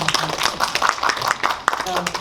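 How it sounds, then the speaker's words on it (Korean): An audience applauds at a post-screening talk with the directors of a documentary in a small Seoul cinema in Jongno, a dense clapping wash with voices speaking over it. "박수 부탁드립니다"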